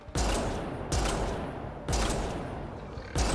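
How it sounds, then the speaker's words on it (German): Enemies shoot in Mass Effect Andromeda: four loud, evenly spaced bursts of automatic fire crackle close by with short gaps between them. "Die schießen auf mich."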